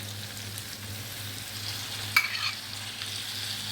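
Tomatoes drop into a frying pan while making ful with sausage, a steady low sizzle broken by one sharp clink and a brief burst of crackling as they land, close and without talk.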